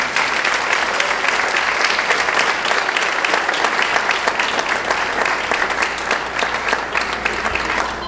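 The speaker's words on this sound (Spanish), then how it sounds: "vamos a dar unos aplausos al Señor." A church congregation applauds steadily, a dense, even wash of many hands clapping, close and loud throughout.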